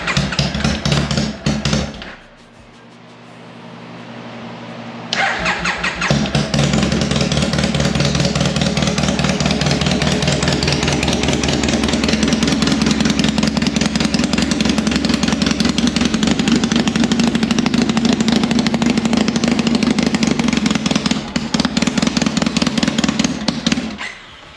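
Triumph engine starting with the choke out: a brief rumble, a short lull, then it catches and runs steadily and loudly for about twenty seconds, with no talk.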